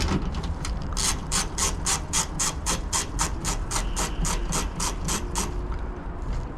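A ratchet works screws loose on a Ford Transit Connect van, giving a close, rapid series of about twenty evenly spaced metallic clicks with a brief pause near the start.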